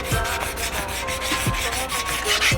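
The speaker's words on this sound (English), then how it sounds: "I'm going back one final time with the 120 grit block now in a cross hatch pattern" Close hand sanding with a 120 grit sanding block, worked in a cross hatch pattern: rhythmic rasping strokes repeat about twice a second, alone and fairly quiet.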